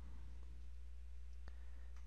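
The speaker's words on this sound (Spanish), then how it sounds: "Clic derecho," A single sharp computer mouse right-click sounds once, close and crisp, over a steady low electrical hum in a quiet room.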